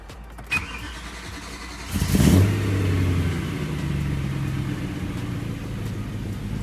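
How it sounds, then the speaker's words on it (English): A BMW M3 (E90/E92/E93) engine cranks briefly on a cold start after injector replacement and catches, then settles into a steady idle with a low hum that holds on alone to the end. "All right, so here's the first cold start."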